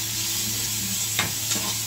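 Onions frying in a pan with a steady broadband sizzle, interrupted by two brief scraping stir strokes near the end; no voices.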